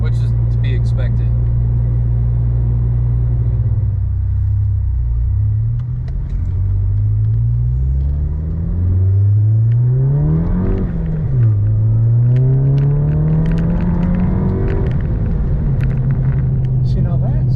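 Car exhaust fitted with a Stealth dual-muffler turbo-back system, rumbling loudly and close, with the engine revving up and down in deep swells and dips throughout.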